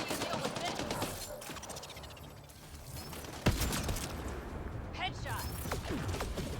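Gunfire in a Mass Effect: Andromeda fight against outlaws, with a sharp crack standing out amid mechanical clatter, whooshes and a dense layer of battle noise and voices.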